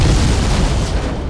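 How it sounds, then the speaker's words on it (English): A loud, rumbling video game explosion in The Godfather II on PC fills the whole moment, a dense roaring blast that stays heavy and low before tapering slightly at the end. "How many explosions, man?"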